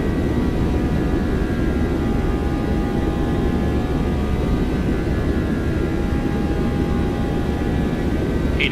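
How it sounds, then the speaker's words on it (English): Boeing 737-800 jet engines spooled to takeoff thrust in X-Plane, a steady loud roar with a constant whine and broadband rush, unchanging throughout and heard alone without voices. "set takeoff thrust"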